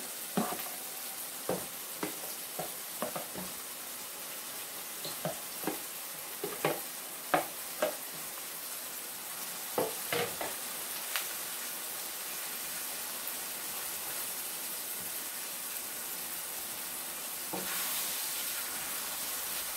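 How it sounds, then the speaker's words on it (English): Salted fish sizzles steadily in a hot pan for a Jamaican ackee and saltfish dish, with a continuous hiss of frying and regular scraping clicks and taps as it is stirred, close and fairly loud, with no talking. "Just gonna let the saltfish fry out a little bit"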